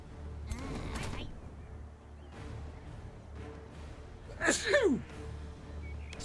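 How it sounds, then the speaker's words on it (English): A man sneezes once, close and sudden, a sharp burst with a breathy intake, over a low steady hum and faint room noise; earlier there is some quieter breathy vocal sound. "I'm also full of sneezes today, it turns out."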